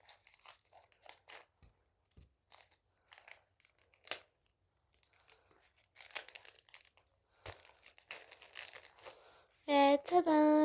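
Packaging being opened by hand: scattered soft crinkles and rustles through most of the stretch, then a loud, sustained tearing rip of plastic wrap right at the end.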